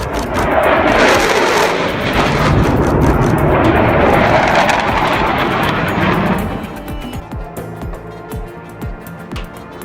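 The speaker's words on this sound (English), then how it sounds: "The fighter jet flexes its power with wind blasts so fierce" A fighter jet's engine blasts with a loud, roaring rush of thrust for several seconds, then cuts sharply to a quieter, rumbling tail with scattered crackles.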